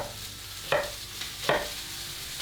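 Beef short ribs and chopped vegetables searing in a hot pan, a low steady sizzle broken by two sharp stirring or scraping bursts, close by with no voices.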